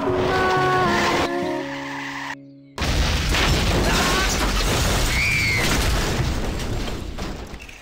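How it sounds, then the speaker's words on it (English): Car crash in a road safety ad: a tonal passage cuts to a brief silence, then a loud impact bursts in, followed by sustained scraping, crunching debris and a short high squeal before it fades. "They then proceed to have this class of children just flattened by a crashing car."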